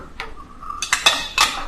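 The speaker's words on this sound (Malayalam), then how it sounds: "ഒന്ന് ഇളക്കി കൊടുക്കുക." A spoon stirs Kerala-style crab roast in a cooking pot, making a few distinct metallic clinks and scrapes against the pot, close and clear with no talking.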